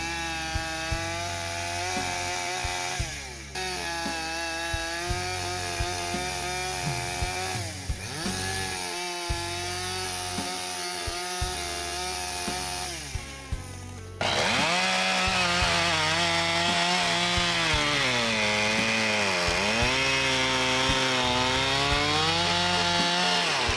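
A chainsaw mill built for milling cuts through a log, its engine droning loudly and steadily with pitch dips as it bogs under load, then revving harder for the rest of the cut.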